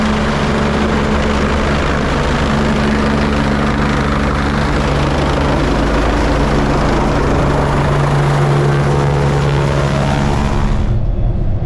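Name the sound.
helicopter flying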